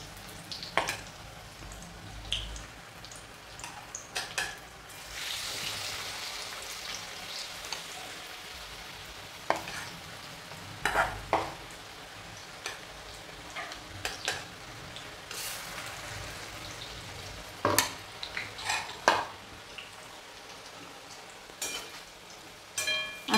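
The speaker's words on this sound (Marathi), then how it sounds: "आणि असं चमच्यानं घेऊया आपण आणि तेलामध्ये सोडूया." Spoonfuls of potato vada batter fry in hot oil, with a continuous soft sizzle, occasional louder crackles and spattering bursts, and faint clinks of a spoon nearby.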